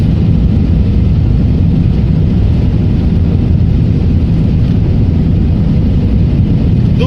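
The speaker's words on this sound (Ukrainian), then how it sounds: "Ну це п'ятий автобан германський, я їду в сторону Франкфурта на Майні" A car cruising on the German A5 autobahn toward Frankfurt am Main, with a steady loud road and engine roar filling the cabin throughout and no pauses.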